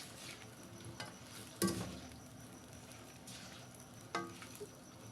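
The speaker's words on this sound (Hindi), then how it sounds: "घी में फ्राई हो रहे हैं बैंगन।" Eggplant frying in ghee gives a faint, steady sizzle, with a few sharp clicks of a spoon against the pan standing out.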